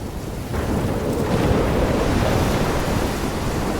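Stormy sea in the game Life Is Strange: a loud, steady roar of crashing waves and wind that swells in after half a second and holds, with deep rumbling underneath that may be distant thunder.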